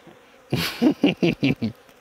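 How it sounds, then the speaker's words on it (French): Honeybees at a hive: a loud buzz rises, then pulses in five short bursts, close to the listener. "c'est ça les abeilles"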